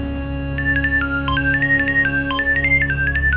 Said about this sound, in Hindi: किसका बजा फोन?